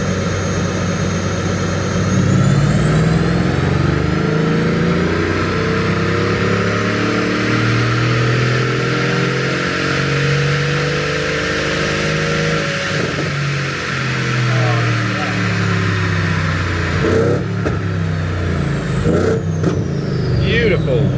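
A Mercedes S63 AMG or Audi RS5 engine rises and falls through long rev sweeps, loud and close, with a high whine climbing and settling over a deep rumble.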